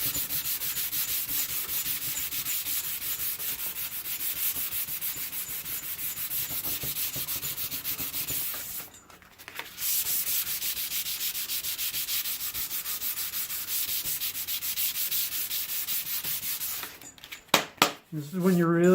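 Hand sanding of a wooden skateboard deck, a continuous rasping scrub that carries on steadily, breaks off briefly midway, then resumes before handling clatter near the end; a voice talks faintly underneath.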